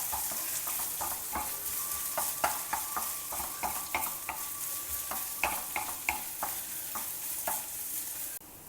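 Ginger fries in a pan and is stirred, giving a steady sizzle broken by frequent clinking stirring strokes throughout, with no voices.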